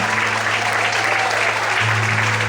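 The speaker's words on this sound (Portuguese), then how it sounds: "Você pode aplaudir o Senhor?" A congregation applauds in a church service: loud, continuous clapping held at an even level above a low droning musical tone.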